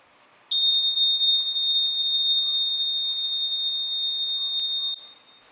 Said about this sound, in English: you're going to see the alarm trigger.